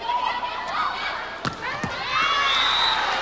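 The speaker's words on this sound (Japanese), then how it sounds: "時折中国の留学生の中国頑張るという声援も聞こえます。" Chinese students cheer for China from the crowd of 9,000 in Nagoya's gymnasium during a 1989 World Cup volleyball match, a sustained roar of shouting voices with a sharp ball slap or thud partway through.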